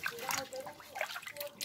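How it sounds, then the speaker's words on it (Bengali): Hilsa fish being washed in water, with soft splashing, dribbling and trickling sounds, faint and close, in uneven bursts. "ইলিশ মাছগুলো ধুয়ে নেওয়া হচ্ছে"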